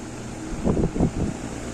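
An electric stand fan hums steadily after being plugged in during a home repair, a low continuous whir with a few soft swells of motor noise and no talk.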